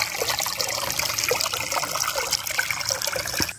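A natural spring on a farm gushes strongly, a loud, continuous rush of flowing water close by with no one speaking.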